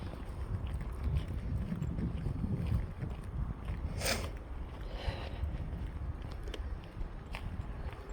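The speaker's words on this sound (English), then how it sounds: "that wind is chilly though, isn't it?" Chilly wind rushes and buffets a microphone outdoors during a walk, a loud, continuous roar with gusty swells and no talk.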